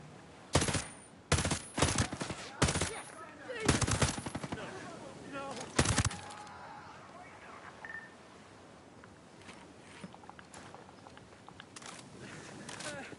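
Suppressed gunfire in a video game comes as sharp, clustered bursts of shots at an uneven rhythm in the first six seconds, then sparse, fainter pops against a low background.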